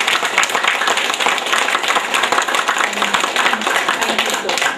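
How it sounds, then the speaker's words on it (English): An audience claps continuously for a speaker: a dense, even wash of applause at steady loudness throughout, with no words spoken over it. "all of you here for clapping for me"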